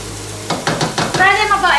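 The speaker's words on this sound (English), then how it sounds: "Fry them about at least 5 minutes" Lemongrass and turmeric leaf frying in oil for a spicy vegetable coconut sauce: a short burst of sizzling with quick rhythmic stirring strokes, close and fairly loud, with a brief voice entering at the end.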